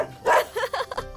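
A man imitates a dog barking, a quick burst of three or four short yapping barks, close and loud.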